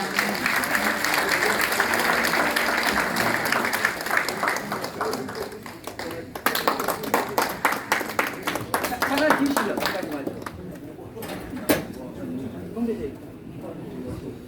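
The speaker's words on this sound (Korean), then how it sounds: "다시 한번 크게 박수를 부탁" Audience at an inauguration ceremony applauding loudly and continuously, the dense clapping gradually thinning into scattered individual claps, with voices talking over it.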